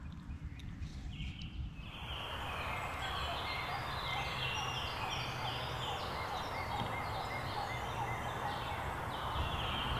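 After a quiet outdoor start, a turkey call sounds, followed by steady dense noise with repeated wild turkey gobbling calls layered over it, in a field on Wisconsin public land.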